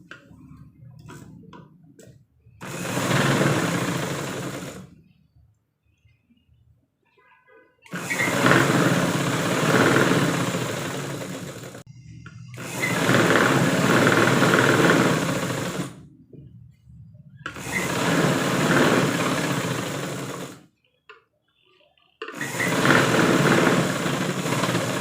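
A sewing machine stitches a blouse side seam in four bursts of steady, rapid whirring and ticking, each lasting a few seconds, with brief quiet pauses between runs, close and clear, and no one speaks.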